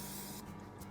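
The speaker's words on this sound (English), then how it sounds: "So I go ahead and spray a little vegetable oil on these." Vegetable oil sprayed from a can onto whole wheat buns, a close hissing burst that stops partway through, followed by a second short spritz near the end.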